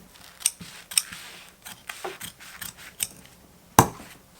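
Scissors cut fabric for the bottom panel of a duffle bag liner, giving a series of crisp, close snips at an uneven pace, with one sharper clack near the end.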